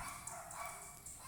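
Dogs barking somewhere in the distance, a few short yaps against a steady background hum.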